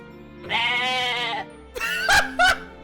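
A drawn-out goat bleat, then a short pause and two quick, sharp bleats close up, sounding clean and artificial like a canned effect.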